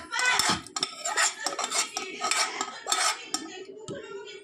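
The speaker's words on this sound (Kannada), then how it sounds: "ಇವಾಗ ಅದಕ್ಕೇನೆ ಬೇಯಿಸ್ಕೊಂಡು ಇಟ್ಕೊಂಡಿರೋಂಥ ಬೇಳೆ ಕಡಲೆ ಬೀಜ ಬಟಾಣಿ ಮಿಕ್ಸ್ ಮಾಡೋಣ ಅದ್ರೊಳಗಡೆ" A spoon scrapes and clinks against a metal pot while cooked rice, dal, peanuts and peas are stirred together for bisibelebath, giving a steady run of close, busy metallic scraping strokes with no talking.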